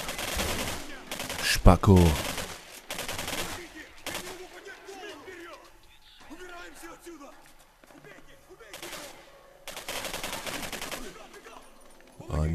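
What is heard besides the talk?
gunfire in the video game Singularity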